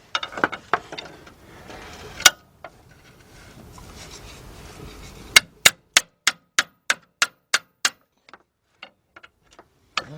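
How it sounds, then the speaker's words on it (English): Sharp metallic hammer blows on a pry bar, working a tie rod clamp loose on the left front of a Ford Explorer, Ranger or Mercury Mountaineer; a few scattered strikes, then a fast, evenly spaced run of ringing hits that trails off. "take my hammer and try to hit my pry bar and try to knock that clamp"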